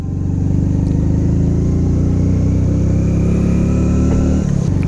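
A Hero Splendor Plus 100cc motorcycle engine labours uphill in second gear on a mountain road, a close, steady, buzzing drone that holds its pitch throughout.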